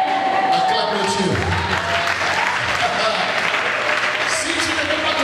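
Studio audience applauding with scattered cheers at a French comedy sketch, a steady loud wash of clapping that fills the whole stretch, with some voices mixed in.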